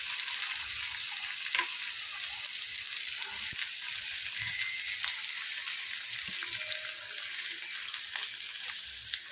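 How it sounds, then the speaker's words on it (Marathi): Onion sizzles steadily in a hot pan of garlic tempering oil, a constant crackling hiss with occasional faint clicks of a utensil. "तर आपण आता त्यामध्ये कांदा टाकणार आहोत परतायला"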